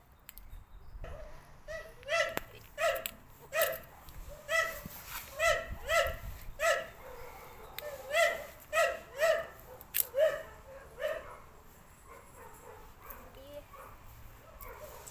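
A dog barks in a rapid, steady run of about a dozen sharp barks, then falls quiet, with faint voices and outdoor background noise underneath.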